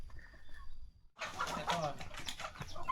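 Farm chickens cluck and call near a rural home, with a few faint calls followed by a busier stretch of overlapping clucks and rustling close by.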